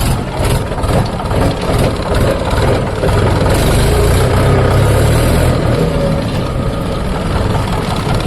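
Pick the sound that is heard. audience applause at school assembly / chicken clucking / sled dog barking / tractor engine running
tractor engine running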